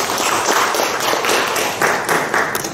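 An audience claps after the introduction of a talk on humanism, a dense, continuous burst of applause from a crowd indoors, fairly loud and close.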